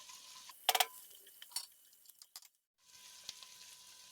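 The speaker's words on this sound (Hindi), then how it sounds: "हमारी मीठी अच्छे से फ्राई हो गई है और तेल साइड्स पे आ गया है" Fenugreek leaves for Kashmiri methi chicken frying in oil, heard as a quiet close crackle with a brief louder sizzling burst and scattered light clinks before falling almost silent, then a soft renewed hiss.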